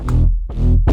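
A gritty synth bass in FL Studio 21, overdriven with the Fruity Blood Overdrive plugin, plays three heavy notes in a row, each loud and buzzing with distortion, separated by short gaps.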